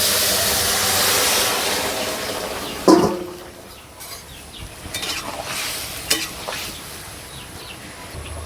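Cumin seeds and whole spices sizzling and crackling in hot mustard oil in a pan, a steady broadband frying hiss with a sharp burst as more spices drop in, then quieter sizzling with small stirring knocks, no talk.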